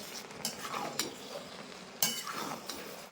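Ground roasted spice being mixed into sweet-sour jujube (kul) pickle in a pan, soft close scraping and stirring strokes with a few sharp clinks of the spoon against the metal.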